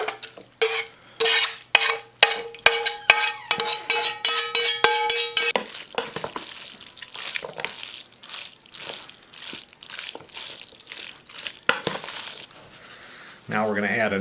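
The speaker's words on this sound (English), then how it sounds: "Now we're just going to mix our taco meat in with it." Taco meat gets stirred into noodles in a large bowl for a taco hotdish, making rapid, close clinks of a utensil against the bowl, then softer scraping and squishing.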